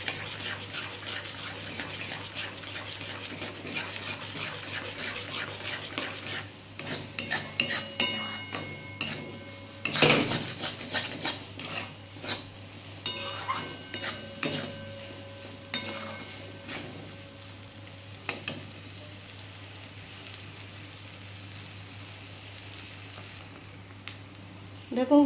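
Ripe pointed gourd paste being fried and stirred in a pan, a quiet sizzle beneath a run of spatula scrapes and metallic clinks against the pan, with a voice talking over it.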